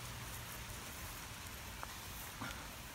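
Rain falls in a steady, soft, even patter that stays faint and unbroken throughout, with no voices.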